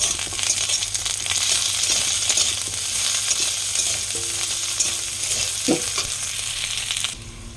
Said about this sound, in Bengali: আলুটা ভাজা ভাজা হয়েছে, এবারে আমি আদা বাটাগুলো দিয়ে দেবো।